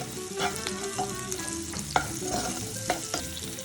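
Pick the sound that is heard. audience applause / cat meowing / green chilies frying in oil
green chilies frying in oil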